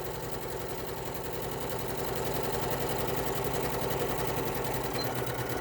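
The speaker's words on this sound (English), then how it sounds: "you want to lock your stitches at the end, and you're going to sew on this curve" Sewing machine running steadily while stitching a curved seam at a quarter-inch allowance, a continuous fast mechanical whir with rapid needle rhythm, close and fairly quiet, no talking.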